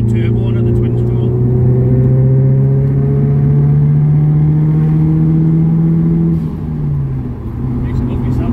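Subaru Impreza STI with a forged engine and hybrid twin-scroll turbo pulling hard on a test drive, a loud steady engine drone rising in pitch over several seconds and then easing off, with talk inside the car.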